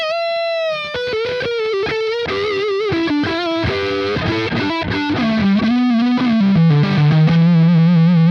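A Mexican-made Fender Telecaster electric guitar plays bluesy licks with bends and slides through an overdriven, effect-laden tone, loud and continuous with no talking.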